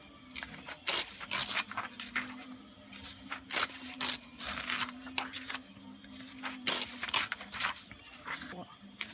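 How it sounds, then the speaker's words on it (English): Pages are ripped from a book one after another, giving a rapid series of close, crisp tearing rips in an uneven rhythm, with a voice speaking in between. "you see how cleanly that's ripping"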